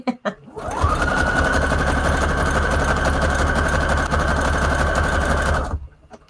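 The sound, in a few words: sewing machine sewing a zigzag stitch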